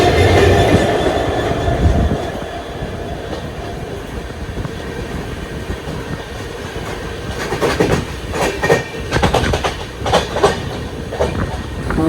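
An express train rolls on rails, heard from inside a sleeper coach of the Ernakulam to Mumbai LTT Duronto Express, with a loud steady rumble and bursts of clickety-clack from the wheels over joints later on.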